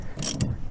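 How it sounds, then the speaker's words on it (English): A hand ratchet wrench turning a bolt on a dead Cushman Trackster gives a short burst of clicking mechanical noise, close and fairly loud, lasting under a second with no talk. "But a ratchet will do for now."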